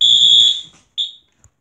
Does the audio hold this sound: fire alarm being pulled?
yes